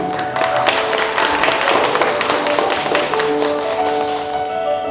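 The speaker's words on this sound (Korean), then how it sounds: "큰 박수 부탁드립니다." Audience applause fills a library's 30th-anniversary policy concert during an award ceremony, a dense, steady wash of many hands clapping close by without pause.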